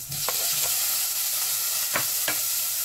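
Onion, ginger and tomato frying together with shrimp and vegetables, a steady close sizzle with a few sharp stirring scrapes and clatters in the pan, no voices.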